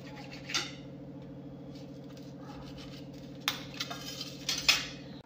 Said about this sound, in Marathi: आता मी इथे ब्रेड घेतले आहेत आणि ब्रेड मी अशा पद्धतीने कट करून घेणार आहे